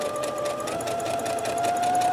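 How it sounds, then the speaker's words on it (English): A sewing machine runs steadily, stitching a seam a quarter inch from the curved edge of a fabric face mask, with a close, even mechanical whir and rapid needle rhythm throughout. "I'm going to sew 1/4 inch from the edge"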